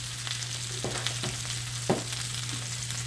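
Smothered potatoes with garlic powder frying in a pan, a steady close sizzle with a few light scrapes and stirring taps, no voices.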